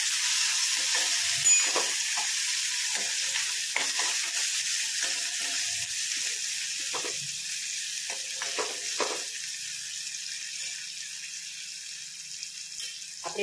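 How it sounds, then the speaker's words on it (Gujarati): Green chillies and tomato sizzle steadily in a hot pan for a Gujarati moong curry, with a soft, continuous frying hiss and occasional light scrapes of a spoon stirring them; no talk is heard. "બધું જ આપણે નાખીએ ને આ રીતે હલાવશું."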